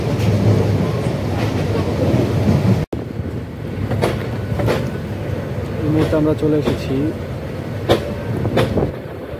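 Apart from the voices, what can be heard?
train of the Cox's Bazar Express crossing Kalurghat bridge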